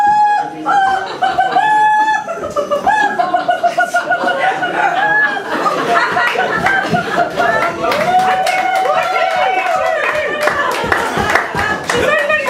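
A rooster crows repeatedly, close and loud, amid a flock of clucking hens, their calls overlapping throughout.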